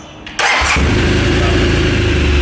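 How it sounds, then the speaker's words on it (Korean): A BMW R1200GS LC motorcycle engine cranks and catches after a brief starter whir, then settles into a steady, loud, close idle with an even low rumble. "자, 크러치를 잡고 시동을 걸어보겠습니다."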